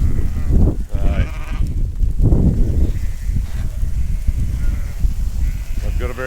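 Ewes on a farm bleating repeatedly during feeding, loud and close, with overlapping calls from several animals over a busy outdoor background.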